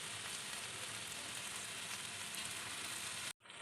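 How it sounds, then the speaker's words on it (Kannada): Spices fry in a pan with tomato sauce and chili sauce for Indo-Chinese street-style veg fried rice, giving a faint steady sizzle that cuts off abruptly just before the end. "ಈಗ ಮಸಾಲೆಗಳನ್ನ ಹಾಕ್ಕೊಂಡು ಫ್ರೈ ಮಾಡಿದಾಗಿದೆ."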